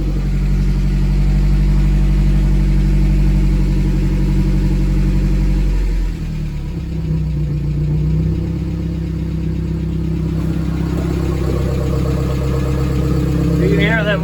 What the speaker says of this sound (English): You can hear them lifters still ticking some.